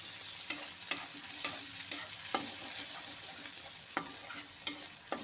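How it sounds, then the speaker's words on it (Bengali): Spices with Kashmiri chili powder fry in oil over medium heat while a spoon stirs them in the pan: a soft ongoing sizzle broken by about ten clear scrapes and knocks of the spoon at uneven intervals, close and alone. "সমস্ত কিছু মশলার সাথে এখন ভালো মতো করে আমি কষে নেব"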